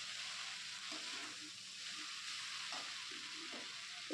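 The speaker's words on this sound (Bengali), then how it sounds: "নুডলসটা দিয়ে দিচ্ছি। দিয়ে এবার এই সবজির মধ্যে খুব হালকা করে এটাকে মিশিয়ে নিতে হবে।" Noodles being stirred into vegetables frying in a pan for a Top Ramen noodle dish, with a steady close sizzle and soft scraping strokes of stirring throughout, no talk.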